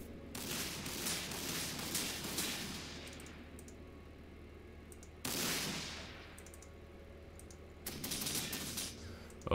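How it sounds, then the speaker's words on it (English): Lascannon firing in the video game Warhammer 40,000: Sanctus Reach, three heavy blasts that each swell and then fade in a long decaying rumble, loud against a quiet background. "Las cannon time."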